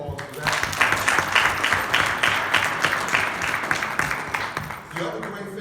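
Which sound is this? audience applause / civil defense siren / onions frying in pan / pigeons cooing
audience applause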